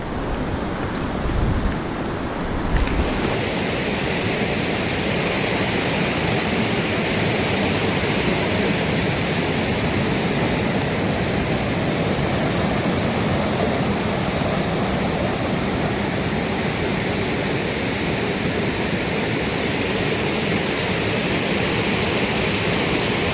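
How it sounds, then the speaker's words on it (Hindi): A swollen Ganga river in flood after a night of heavy rain in the hills, its water roaring in a loud, continuous broadband rush that fills the whole scene, with a brief sharper disturbance at the start. "कल रात से ही बारिश लगी हुई थी और उसी की वजह से ये फ्लड आया है।"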